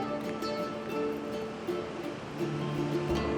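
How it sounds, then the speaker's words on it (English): Large ocean waves breaking on a beach with strong currents, a steady broadband roar of surf rolling continuously without clear pauses, moderately loud and fairly close. "Oh my god, those waves are insane!"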